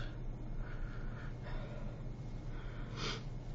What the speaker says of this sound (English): I'm sorry if I'm sniffling. Once again, I have a cold